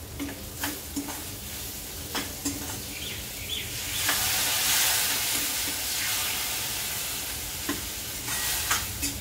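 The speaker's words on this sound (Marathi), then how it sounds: "आपण हे जे सगळे काही मसाले घातले ते चांगले परतून घेऊया।" Spices, including homemade garam masala, are sautéed in a pan with steady sizzling and a sustained hiss that swells midway. A spoon scrapes and stirs in occasional sharp strokes, and no one speaks.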